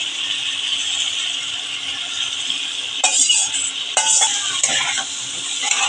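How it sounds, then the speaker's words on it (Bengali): Fried potato pieces are tipped into a hot pan of papaya and prawn curry and stirred, giving a steady close sizzle broken by a few sharp metallic scrapes and clinks of the spatula, with no talking. "এবার আমি আলু কেটে ভাজাগুলো দিয়ে দিচ্ছি"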